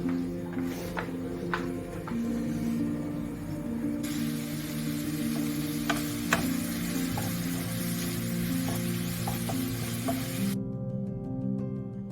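Onions fry in a pan to a golden colour with a steady close sizzle and crackle, a few sharper pops standing out, before the sound cuts off near the end.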